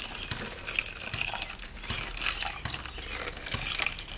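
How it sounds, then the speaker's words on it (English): Warm water drizzled by hand into the individual cells of a seed-starting tray, a close, steady trickle and splash with small irregular bursts and no talking. "we're just going to take some water, and you want to use warm water, and you're just going to drizzle it in here, in each individual one."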